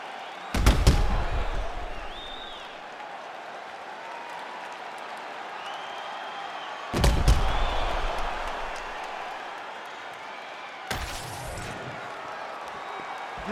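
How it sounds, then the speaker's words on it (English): A packed arena crowd in the UFC 5 fighting game on PS5 keeps up a steady, dense roar, broken by a few sharp, heavy thuds near the start, around the middle and toward the end. "This crowd is going sick after what they saw in that previous round."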